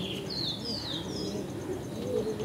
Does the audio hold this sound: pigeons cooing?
yes